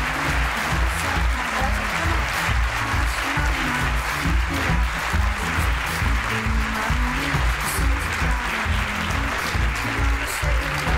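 A conference audience applauds at the close of the event: eleven seconds of dense, steady clapping from a large crowd, even in level and without pause, with no speech over it.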